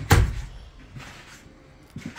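A solid bathroom door in a 2023 Quailridge park model trailer opens or closes with one sharp knock right at the start, followed by faint handling sounds and a quiet indoor room.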